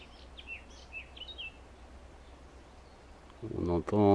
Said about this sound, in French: On entend chanter les petits oiseaux.